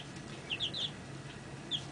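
Four chickens kept in a house basement give a few short, high clucks around the middle and one more near the end, faint against a steady low indoor hum.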